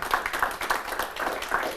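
Applause for Umar at a certificate ceremony, a steady patter of many hands clapping at moderate volume with faint voices underneath.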